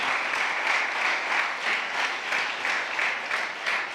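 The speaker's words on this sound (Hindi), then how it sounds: "जोरदार ताली बजाएं इनके लिए" Large audience at an evangelistic church gathering clapping steadily, loud dense applause with a gently pulsing rhythm throughout.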